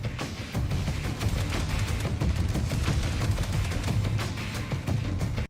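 Space AK rifle in a video game firing rapid continuous automatic bursts, loud and close, a dense rattling stream of shots lasting the whole stretch.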